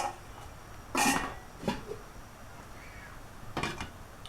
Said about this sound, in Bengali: এখন একটু আমি ঢেকে রেখে দিব।